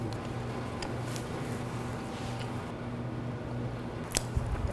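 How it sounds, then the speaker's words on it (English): A knife saws through a loaf of bread in a kitchen, slicing a little off for croutons: a faint, soft, repeated scraping and crunching close by, ending with a few sharper clicks. "I'm just gonna slice a little bit because I want everyone to taste it"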